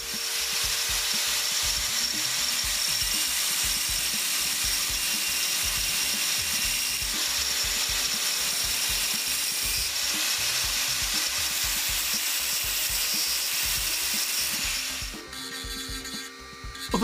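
Sprues are cut away and filed down on a small bronze miniature casting, a close, continuous rasping scrape with a rhythmic back-and-forth texture that shifts slightly in the final seconds.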